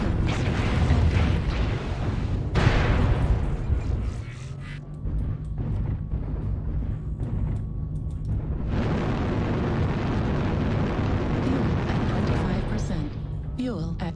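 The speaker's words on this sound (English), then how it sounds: "Artillery" Artillery fire in the video game Vulcan: heavy, rumbling booms roll continuously over a dense low background, swelling loud in bursts with brief lulls between.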